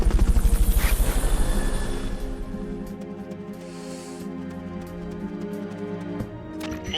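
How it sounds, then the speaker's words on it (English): A Fulton recovery helicopter in Metal Gear Solid: Peace Walker gives a loud, pulsing rotor thump that fades and settles into a steady hum beneath sustained game music and scattered clicks. "Fulton recovery helicopter is complete."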